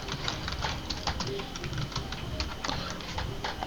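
Someone types quickly on a computer keyboard while coding an HTML hotel landing page, with rapid, irregular clicking keystrokes up close and a voice talking faintly underneath.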